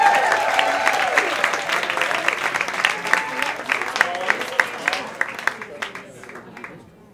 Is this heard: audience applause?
yes